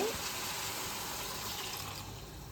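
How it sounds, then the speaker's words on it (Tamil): Half a litre of water pours steadily into a pot with a continuous rushing splash, close and fairly loud, tapering slightly toward the end. "இதில் ஒரு 1/2 லிட்டரு தண்ணி ஊற்றி வச்சுருக்கேன்."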